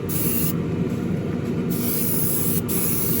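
An airbrush or spray gun lays a final wet coat of lacquer onto an Alpha Models Ferrari SF90 Spider model car, giving a continuous close hiss with brief dips as the spray pauses.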